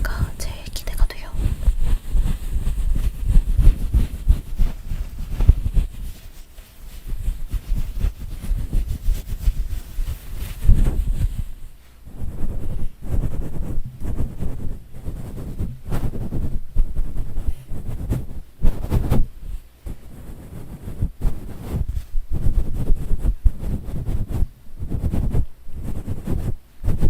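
Fuzzy microphone windscreen cover rubbed and handled close to the mic for ASMR, dense rustling scratches and soft thumps with brief pauses, loud and intimate, no talking.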